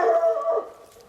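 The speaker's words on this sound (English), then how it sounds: "Oh no, it's the same dog." A dog outdoors on a warm late-winter night lets out a drawn-out bark that trails into a howl, one sustained call that fades within a second, with no voices.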